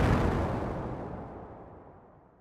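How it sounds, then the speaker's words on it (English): A-Bomb explosion patch from the Thor synth in Reason's factory sound bank: a single loud, full-bodied blast with a rumbling low end that decays steadily over a couple of seconds, alone with no voices. "I first had to choose an explosion sound for that."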